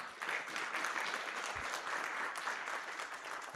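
A roomful of people at a tourism stakeholder roundtable in Nakuru clap to open the meeting, sustained even applause at moderate loudness throughout, with no one talking over it.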